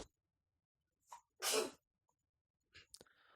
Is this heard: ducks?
no